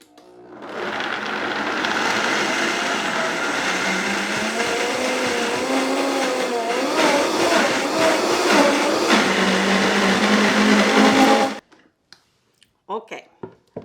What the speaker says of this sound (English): I'm gonna go over to the Vitamix and do a big blend